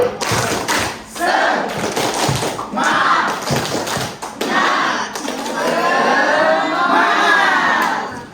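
A group repeats the rhythmic 'tepuk semangat' clap, sharp clustered claps and thumps in a patterned sequence interleaved with chanted voices, loud and close, ending in a sustained shout-like stretch.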